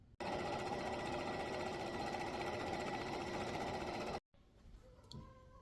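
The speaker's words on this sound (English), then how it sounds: "we are going to sew around the mitten" A sewing machine stitches around a fabric baby mitten in a steady, loud, continuous whir that runs for about four seconds, then stops abruptly, leaving faint handling noise.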